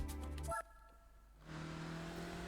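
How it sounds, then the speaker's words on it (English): A BMW 120d diesel engine in Gran Turismo 4 revs loud and close, drops out abruptly to near silence, then returns as a steady moderate drone. "We've got a 120D BMW, which I think is the only diesel in this game. It actually sounds like a diesel as well."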